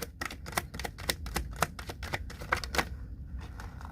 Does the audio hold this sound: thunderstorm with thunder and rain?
no